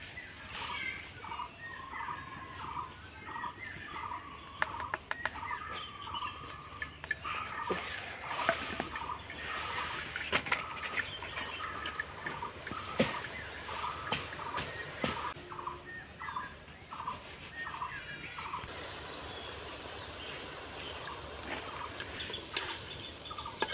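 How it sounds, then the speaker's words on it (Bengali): Drops of gram flour boondi batter sizzle and crackle steadily in hot oil, a dense, close, continuous frying hiss with faint clinks throughout. "নাড়াচাড়া করে এগুলোকে আমি লাল লাল করে ভেজে নেব"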